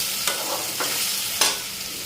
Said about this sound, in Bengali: আলু ভাজাটা বসাইছি